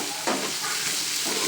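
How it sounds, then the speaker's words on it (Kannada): Chopped tomatoes fry in oil until soft for an avarekalu sambar, a brief burst of loud hissing sizzle as they stir in the pan, close and unbroken. "ಟೊಮೆಟೊ ಎಲ್ಲ ಸಾಫ್ಟ್ ಆಗೋವರೆಗೂ ಎಣ್ಣೆಲಿ ನೀಟ್ಗೆ ಫ್ರೈ ಮಾಡ್ಕೋಬೇಕು"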